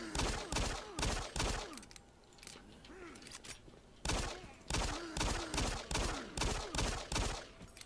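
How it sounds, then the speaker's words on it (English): Pistol gunfire in the Doom 3 video game, a rapid series of sharp loud shots in bursts with mechanical clanks and creature noises between them, and a brief pause in the middle. "I'm going to switch to the pistol for killing these guys"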